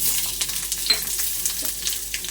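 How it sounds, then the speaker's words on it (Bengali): Chopped onion sizzles in hot mustard oil in a kadai, a steady bright crackle broken by several sharp spatters and pops, close and fairly loud with no voices. "তেলটা আমার গরম হয়ে গেছে। এবারে দিয়ে দেবো পেঁয়াজ কুচি।"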